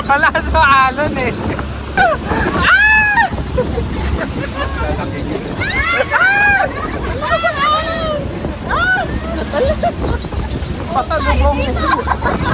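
Strong waves slosh against a small island-hopping boat on open water, a steady rushing wash under wind noise, while several people talk and exclaim excitedly throughout.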